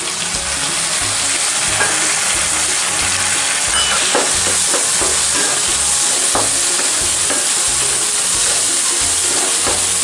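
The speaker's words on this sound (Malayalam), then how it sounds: "ഇനി നമുക്കിതിലേക്ക് നമ്മളെടുത്ത് വെച്ച തക്കാളി അരിഞ്ഞ് ഇട്ട് കൊടുക്കാം" Chopped tomatoes frying with crushed ginger, garlic and onion for pepper chicken, giving a loud, continuous sizzle with occasional stirring clicks throughout, no voices.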